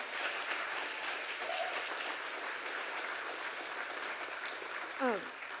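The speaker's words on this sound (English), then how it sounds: "So a round of applause for them." A campus audience at a Dartmouth climate commitment evening applauds festival organizers, a steady wash of many hands clapping at even level throughout, with a brief squeak near the end.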